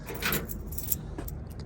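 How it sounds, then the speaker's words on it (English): Car keys for a 1968 Plymouth GTX jingle briefly up close, a few light metallic clinks in a quiet room. "Make sure I got the keys."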